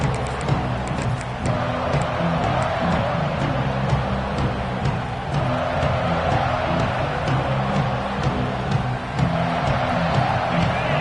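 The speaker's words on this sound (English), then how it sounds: "This crowd bringing an ear-splitting welcome to their visitors." A stadium crowd in the College Football 26 video game roars in a steady, dense wash of cheering that holds loud and unbroken throughout, with no clear peaks or pauses.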